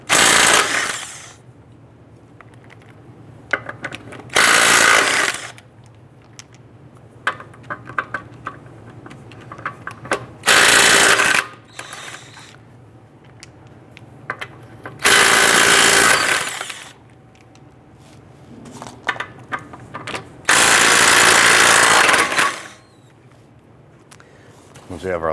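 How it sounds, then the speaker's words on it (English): An impact wrench with a 21mm socket loosens lug nuts on a 2005-2010 Chrysler 300, firing about five loud, close rattling bursts of a second or two each, separated by quieter gaps of handling noise. "I'm going to loosen and remove our lug nuts."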